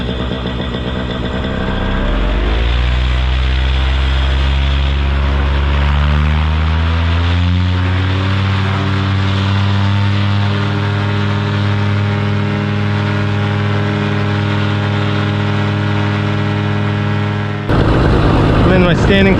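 A powered paraglider's paramotor engine throttles up for inflation and flight, its loud droning note climbing in pitch after about two seconds and then holding steady and close. The engine cuts out abruptly near the end.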